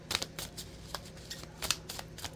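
Cards are shuffled and pulled for a reading, giving quick papery riffles and light slaps close by in a quiet room.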